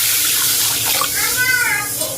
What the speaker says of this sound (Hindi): एबे आम पानी दे दबा